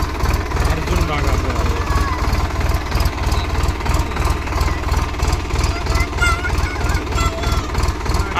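A newly bought tractor idles near a Ganesh temple where it was brought for a puja, its engine thumping in an even, rapid pulse throughout while people talk over it.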